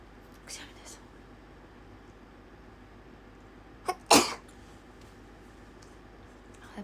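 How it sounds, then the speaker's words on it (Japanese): One sharp sneeze, preceded by a short breathy intake and a couple of faint soft sounds, close to the mic in an otherwise quiet room. "くしゃみです。"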